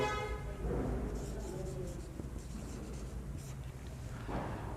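Pen or marker scratching steadily across paper or a board while a class 10 maths triangles proof is written out, close and continuous, with a brief voice at the start.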